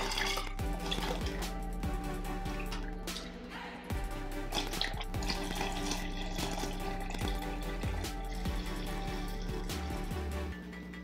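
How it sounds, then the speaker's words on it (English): Milk is ladled into jugs for homemade Greek yogurt. Continuous pouring and dripping liquid sounds and splashes blend with faint background music. "Now I'm gonna use a ladle and scoop the rest of the milk into each jug."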